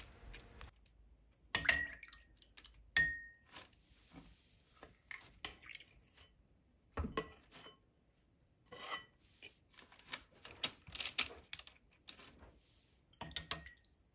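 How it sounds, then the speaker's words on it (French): A moistened ice cream scoop shaping biscuit dough, heard as scattered scraping and clinking metal strokes in short bursts with quiet gaps between them, close up with no talking. "Pour former les biscuits, j'utilise une cuillère à glace que j'humidifie avec de l'eau."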